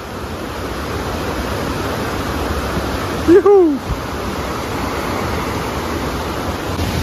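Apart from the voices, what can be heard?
waterfall, Salto São Francisco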